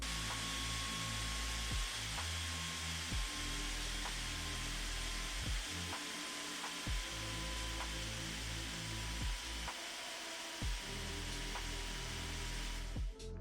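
Gaming laptop cooling fans whir loudly and continuously, a dense, steady rush of air with a low hum running underneath.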